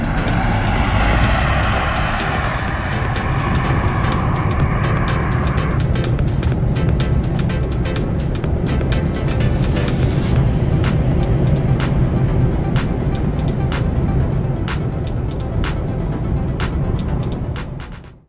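Electric DeLorean running a Tesla Model 3 Performance drivetrain, passenger removed, accelerating hard on a timed run: a loud, steady roar of wind and road noise with a falling whine early on, sustained for the whole pass before cutting off.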